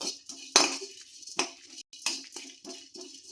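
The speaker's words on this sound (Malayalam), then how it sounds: "തേങ്ങ ഇട്ടിട്ട് നന്നായിട്ടൊന്നിങ്ങനെ വഴറ്റുക" Grated coconut sautéed in a pan, stirred with a metal spoon that gives several sharp clinks and scrapes against the pan at an uneven pace, close by, no voices.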